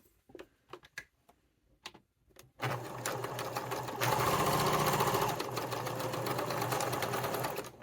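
Sewing machine stitches across two fabric pieces laid at a right angle, corner to corner: a few soft clicks and taps first, then a steady, close whirring run that swells louder midway, with no talk.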